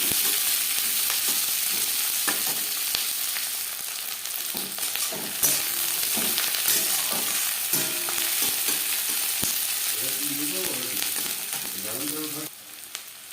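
Chopped onions frying and sizzling in a pan for a potato chicken jhol curry, a steady close hiss with occasional stirring clatter throughout, no voices.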